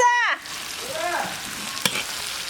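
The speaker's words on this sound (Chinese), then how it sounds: "最后下入蒜苗、叶子，炒一层出锅" Garlic sprouts and their leaves stir-fried with home-cured pork in a hot pan give a steady, close sizzle, with a brief scrape or clink of the spatula partway through.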